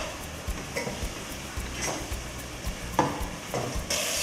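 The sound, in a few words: masala frying in oil while stirred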